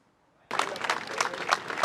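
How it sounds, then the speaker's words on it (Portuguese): A crowd applauds in front of the Legislative Palace in Montevideo during Pepe Mujica's funeral procession, clapping bursting in suddenly after a brief quiet and continuing as a sustained, mid-distance outdoor ovation. "a gente ouve as palmas aqui em frente ao Palácio Legislativo"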